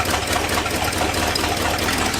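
A Ford F100 engine, brought back after sitting abandoned for nine years, idles steadily up close with a continuous low rumble and even throb, with no voices over it.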